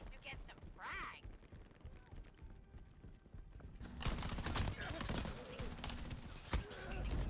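Gunfire in the video game Shatterline, with rapid bursts of shots coming through walls, dense and loud in the second half over the game's background sound.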